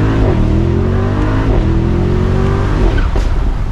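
A Mercedes-AMG SL63 Roadster accelerates hard from inside the cabin, its engine rising loud and steady through gear changes, with a brief exhaust pop near the end.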